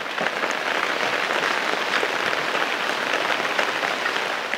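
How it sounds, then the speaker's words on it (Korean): Heavy rain pouring in a remote mountain village, a dense constant patter of drops striking surfaces, fairly loud and close, with no voices over it. "빗줄기가 굵어집니다."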